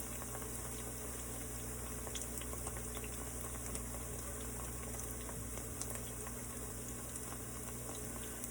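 Ribeye steak frying in a pan, giving off a steady, even sizzle that holds at a low-to-moderate level throughout with no talking.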